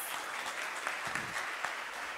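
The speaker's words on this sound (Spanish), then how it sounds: "Otro aplauso fuerte para Jennifer Martínez" Audience at a national English singing and spelling festival in 2022 applauds singer Jennifer Martínez, a steady wash of many hands clapping throughout with a few sharper claps standing out.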